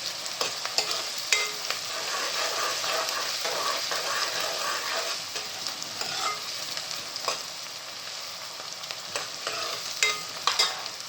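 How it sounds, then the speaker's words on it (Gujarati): Onions fry for a prawn curry, a steady close sizzle running throughout with frequent scraping stirs and small clacks of a spoon against the pan. "ડુંગળીને પાકવા દેવાની છે લાલ થાય ત્યાં સુધી."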